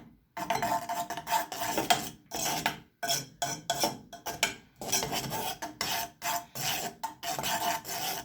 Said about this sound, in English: you assist by stirring so that you don't waste too much of your time